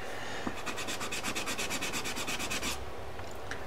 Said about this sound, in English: I'm just going to rub it on a spare bit of paper at the bottom here, just to create a flattish edge.